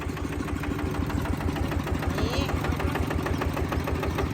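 A walking tractor's small Golden Bow 155 engine idles in a steady, rapid chugging putter, close and continuous, with a voice speaking over it.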